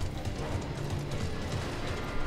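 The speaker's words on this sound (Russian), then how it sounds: "Я слышу, как бегают эти." Enemy soldiers in the shooter Wolfenstein II: The New Colossus scurry about, producing a quick, faint patter of running footsteps that repeats in a loose rhythm, heard alone and at a distance.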